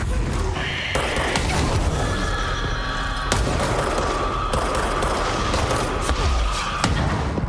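Enemy rocket fire and explosions in the game Control, a loud continuous barrage of booms and thuds with streaking whines over a busy combat background.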